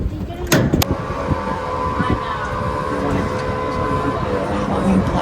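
A tram at Daytona International Speedway, a steady rumbling ride with a sustained tonal hum and a couple of sharp clanks near the start, loud and close.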